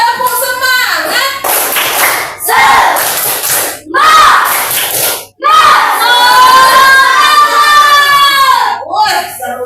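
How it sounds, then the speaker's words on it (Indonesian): A classroom of children performs a rhythmic spirit clap chant, shouting and clapping together in loud bursts with short pauses between phrases. "sebelum kita mulai, tepuk semangat dulu. Tepuk semangat."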